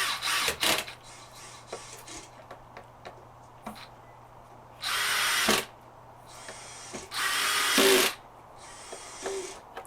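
Power drill with its clutch set, driving screws into a Miller Marine fillet table, several short whirring bursts with clutch clicking and ratcheting, separated by quiet pauses.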